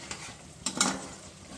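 Capsicum stirred and fried in hot oil with spices over raised gas heat, giving a steady close sizzle with a couple of louder scraping stir strokes, no voices.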